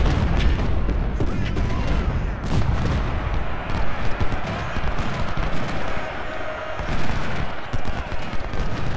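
Cannon and rifle fire crackle and boom almost without pause in a Civil War battle in the Ultimate General: Civil War game. The dense, loud volleys come in waves and mix with faint battlefield noise.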